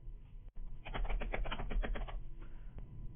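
Typing on a computer keyboard to enter a folder name, a quick run of clattering keystrokes in a quiet room, rising into a dense burst and then thinning to a few scattered taps.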